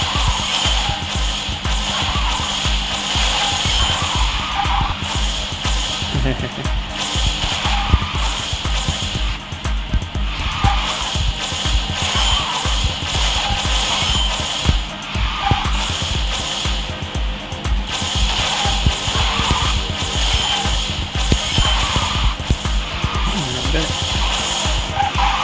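A car in the mobile racing game QQ Speed Mobile turns and drifts with continuous engine whine and tire skidding. The sound is loud and sustained, with rhythmic surges throughout.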